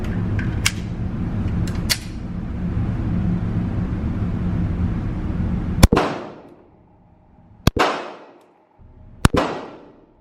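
A SIG Sauer P365 9mm pistol fires several sharp, loud shots at irregular intervals on a shooting range. Each crack rings out over a short decay. Earlier, fainter shots sound under steady background noise.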